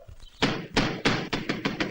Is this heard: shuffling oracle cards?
no